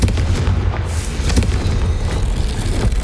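Confringo fire spell blast in Hogwarts Legacy, heard as a deep rumbling boom followed by a sustained roaring, crackling explosion that fills the space, with no voices over it.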